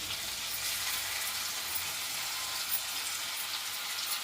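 Paneer pieces frying in hot oil with salt, chili powder and turmeric for a cashew masala paneer curry, giving a steady, close, even sizzle that hisses without pause and has no talk over it.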